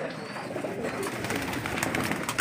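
African Black breeder pigeons in a loft, cooing faintly amid a soft general murmur of birds.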